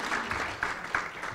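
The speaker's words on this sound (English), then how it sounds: "Please give him a round of applause, too." Audience applause at a closing ceremony: a brief burst of moderately faint, steady clapping from a crowd, continuous through the short moment.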